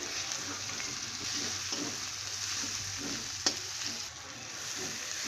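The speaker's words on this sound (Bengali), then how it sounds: "এই যে চিংড়ি মাছটা দিয়ে ভালো করে একটু কষিয়ে নেব।" Shrimp sizzles in a pan while being stir-fried with taro greens, a constant close frying hiss with scraping spatula strokes and one sharp clink midway; nobody speaks.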